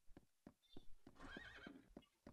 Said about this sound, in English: I can't believe there's a unicorn right out in front of my house.